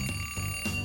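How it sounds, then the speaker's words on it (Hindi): A small toy alarm clock rings in short bursts, a bright electronic beeping in about three pulses, close and fairly loud, with no talking. "अलार्म क्लॉक जगाने में मदद करेगी।"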